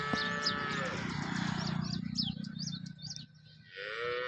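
A cow that calved about a week ago lets out a long, low moo up close, followed by a second shorter call, with birds chirping in the background, in Tharad, Banaskantha, Gujarat.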